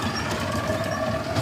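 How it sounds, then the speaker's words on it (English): A model steam train runs along a model railway with a steady mechanical rumble and faint wheel clicking, heard close and continuous throughout. "Steam. Steam train."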